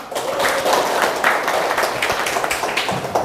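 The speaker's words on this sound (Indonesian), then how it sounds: "Kepada pemateri saya persilakan, tepuk tangan dong." Applause from a seminar audience on literacy and Acehnese hikayat, a fairly small group clapping unevenly, with loose, scattered hand claps at close to moderate distance and no voices over them.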